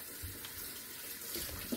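Cold tap water runs steadily from a kitchen faucet into large pots and bowls, a soft continuous splashing and trickle close by with no voices.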